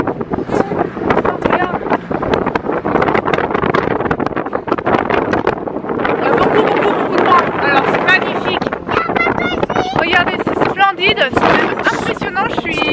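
Strong wind on the heights of the Acrocorinth in Corinth, Greece, roars and buffets the microphone continuously, with loud gusty rumble throughout.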